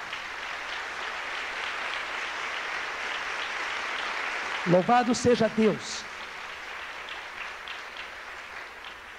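Short burst of audience applause at a Catholic church gathering, about a second of clapping rising over a quiet room after a man's spoken line, then fading back to low background.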